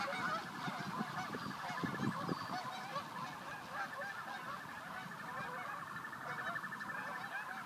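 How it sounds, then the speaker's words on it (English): A flock of geese honks loudly and continuously at close range, a dense overlapping chorus of calls as a dog herds them outdoors. "You got those geese!"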